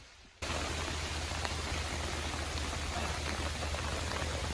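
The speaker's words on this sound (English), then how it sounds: "So it's starting to rain" Rain begins falling outdoors in the wild, a sudden onset of dense, steady hiss from countless drops that continues evenly and fairly loud with no voices.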